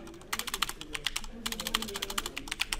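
Fingers tap quickly on a computer keyboard in two close, crisp bursts of rapid keystrokes separated by a brief pause, with faint speech in the background.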